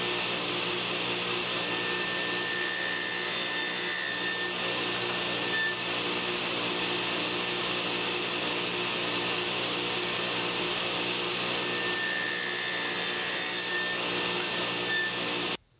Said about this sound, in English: Then we're gonna push it through the blade and we're gonna cut out notches on the ends of all four of our boards.